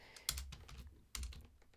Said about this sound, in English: Typing and talking is very difficult